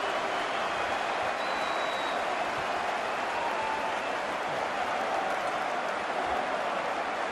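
Football fans roar in a stadium at an FA Community Shield match between Manchester City and Liverpool, a dense, continuous wall of crowd noise that stays loud and unbroken throughout.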